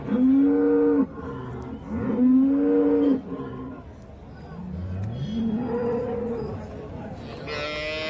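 Cows at a busy cattle market low loudly several times in long, drawn-out moos, two strong calls up front and a softer, lower one later, over a steady background din of market noise.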